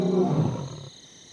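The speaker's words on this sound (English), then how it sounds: "the lions square off with their roars" A wild lion roars at night as a new pride leader squares off with rivals, a deep, loud, close rumbling roar that swells and then fades out abruptly, with insect-like hiss in the background.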